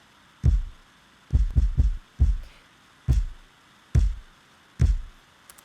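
A dry, unprocessed trap-style kick drum tuned to F, struck about eight times in an uneven pattern with deep booming thumps that decay quickly, loud and alone.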